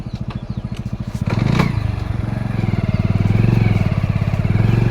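A motorcycle engine putters close by in a fast, steady rhythm, then revs up louder and keeps running.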